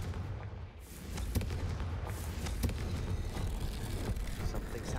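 Confringo blasting spell cast in Hogwarts Legacy, a muffled booming burst with rumbling impacts in a game scene, moderately loud over background ambience.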